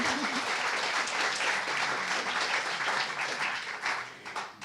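An audience applauds a filmmaker at a lecture evening, dense steady clapping filling the room throughout before thinning near the end, with a voice briefly audible at the start.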